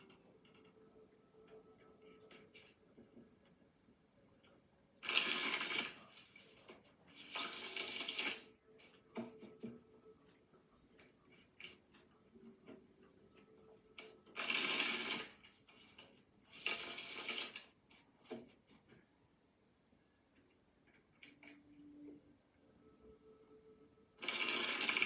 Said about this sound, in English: so now I have done shuffling